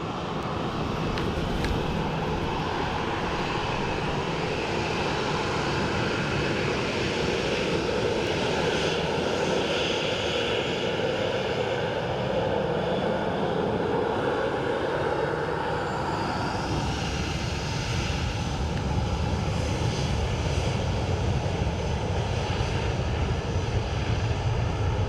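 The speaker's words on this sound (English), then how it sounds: "So we're just waiting for Avian Air. It says should be coming through the clouds right about now." An Avian Air airliner arriving at Dublin Airport from Palma, a continuous broad engine roar from the approaching aircraft, steady and moderately loud, with a faint rising whine building toward the end.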